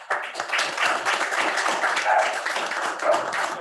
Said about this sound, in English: So thank you and a round of applause.